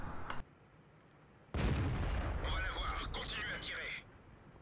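Tank gun fire in World of Tanks aimed at an LTTB: a sudden heavy boom followed by rumbling battle noise and crackling, with a brief earlier thump and someone talking over the game sound.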